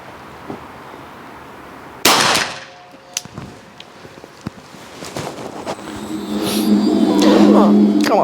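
A revolver fired on a shooting range on full power loads: one loud, sharp report early on, followed by quieter clanks and handling noises, then rising wind and background rumble, with people talking.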